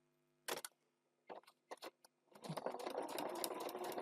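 A sewing machine runs in short stop-start bursts of stitching, then settles into a steady, continuous whir as it stitches along a line, close and fairly quiet.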